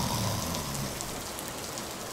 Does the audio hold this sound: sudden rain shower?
yes